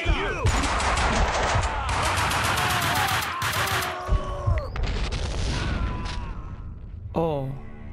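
Rapid gunfire bursts in the video game Max Payne 2, loud, close and sustained, with dense machine-gun volleys and heavy booms, then a short pause before a final blast.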